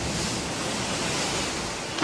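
Ocean waves crash in a dense, continuous roar of surf, a loud, steady wash of white noise with no pauses or voices.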